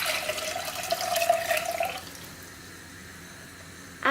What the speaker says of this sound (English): All you have to do is pour your water into a saucepan